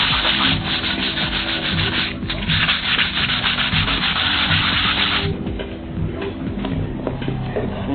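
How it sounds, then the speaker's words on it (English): A power sander grinds steadily across a surfboard, sanding down the tops of screws, with a continuous loud rasping hum that dips briefly and softens near the end, no voices. "once I hit it with the sander machine, I just sand the tops off the screws"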